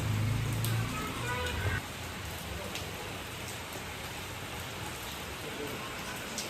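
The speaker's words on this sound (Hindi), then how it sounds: "अब पहले बारिश रुकी थी अब और तेज़ बारिश शुरू हो गई है" Heavy rain pouring outside a home, a dense, steady roar of falling water that stays constant throughout, slightly louder at the start, with brief voices audible early on.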